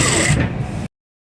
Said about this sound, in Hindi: सबसे पहले रिपीट सिलाई करेंगे, उसके बाद सिलाई आगे की तरफ लेके जाएंगे